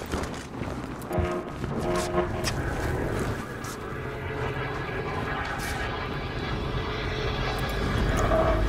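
An attack helicopter in the video game Battlefield Hardline roars with a steady, loud rotor and engine drone over dense gunfire and battle noise. No one speaks.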